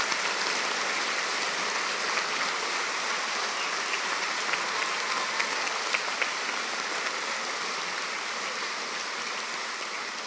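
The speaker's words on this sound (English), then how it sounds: "Let's give them a big round of applause." Sustained applause from a large audience honouring BA Arts graduates at a university graduation ceremony, dense steady clapping at fairly even loudness throughout, with no talking over it.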